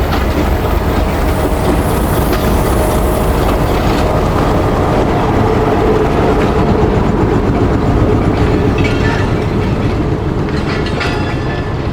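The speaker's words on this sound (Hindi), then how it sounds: "तो ट्रेन अचानक से रुकी थी फिर चली" Millat Express passenger train on the Lalamusa to Karachi run, a steady loud rumble with rail clatter and carriage noise filling the whole stretch without a break, no voices.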